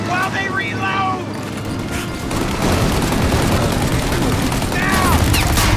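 Rapid gunfire bursts from the video game Mafia Definitive Edition, loud and sustained like a running firefight, with voices shouting over the shots throughout.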